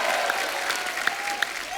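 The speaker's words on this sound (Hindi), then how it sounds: "जोरदार तालियां डॉक्टर साहब के लिए।" A studio audience applauds to welcome a guest on a comedy talk show, a dense, lively burst of clapping with a few sharper claps standing out, loud and continuous.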